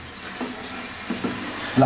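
Potatoes with spices fry in a pan for a North Bengal-style beef and potato curry, giving a steady close sizzle with a few brief scraping stirs and a louder stir at the end.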